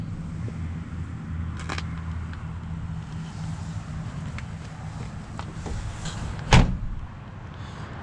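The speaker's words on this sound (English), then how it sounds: "The doors close nice and solid." Solid door closing on a 1964 Chevrolet Impala Sport Coupe with a 327 engine, a single sharp thunk late in the clip over a steady low background hum, with a fainter earlier knock.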